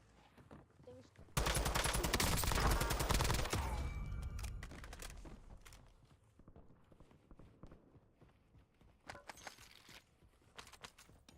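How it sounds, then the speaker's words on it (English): Heavy gunfire and explosive rocket blasts from a Warzone video game match erupt in a dense, loud burst, then taper into scattered, fainter shots and thuds. "someone's shooting rockets and sniping."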